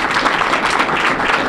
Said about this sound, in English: we like getting our applause